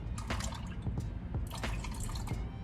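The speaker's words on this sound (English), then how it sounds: "And then obviously vanilla, just a couple of splashes." Vanilla extract splashing into strawberry shortcake batter, a few quick wet drips and splats in a mixing bowl, close up, with a low rumbling hum under them.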